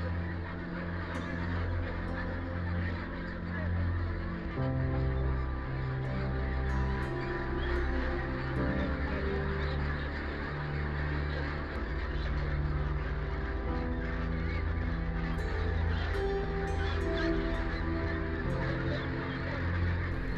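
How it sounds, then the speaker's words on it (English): Crowded ducks on a farm fill a continuous, dense chorus of honking quacks that overlap without pause throughout, loud and close, with steady background din and no talking. "Undercover footage taken inside the farm reveals that sick and weak ducks, who are unable to walk due to their rapid weight gain,"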